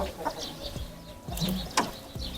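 A home breeder rooster of the Shamo fighting breed clucks in short, low calls near a tree, mixed with other scattered fowl sounds and outdoor rustle, moderately close.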